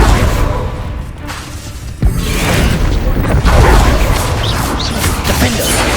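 The Bombarda blasting spell goes off in Hogwarts Legacy on PS5. A loud booming crash hits about two seconds in, inside a dense, roaring wash of battle noise.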